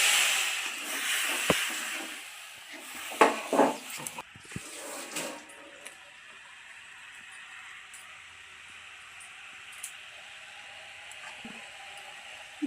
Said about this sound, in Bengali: এবার আমি জল দিয়ে দিচ্ছি পরিমাণ মতো।